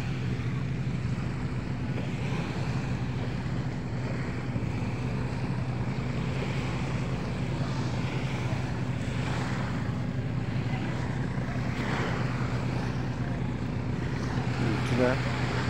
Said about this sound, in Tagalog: Dagat oh.